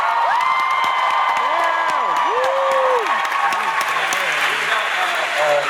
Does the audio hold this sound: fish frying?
no